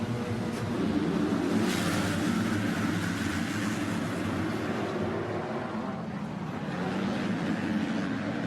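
Motocross bikes rev their engines together at the starting gate in a continuous, loud droning roar that swells and holds steady as the gate drops.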